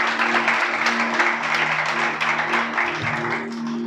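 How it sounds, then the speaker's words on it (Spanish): A church congregation claps steadily through a sermon for a few seconds, a dense, even applause with a faint tonal hum underneath. "un aplauso"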